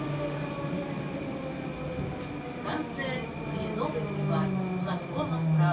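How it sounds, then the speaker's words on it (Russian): A Moscow metro train, model 81-760 on the Big Circle Line, rumbling through a station with a steady electric whine and rising motor tones, brakes and wheels squealing faintly, while someone talks over it nearby. "Смотрите, следующий состав после Русича 81-760АК."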